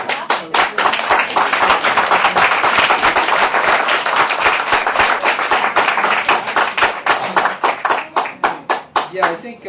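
Audience applause after a poetry reading, a dense burst of many hands clapping in a room that holds steady for several seconds, then thins into scattered, slower claps before fading.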